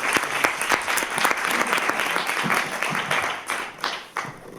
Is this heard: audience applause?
yes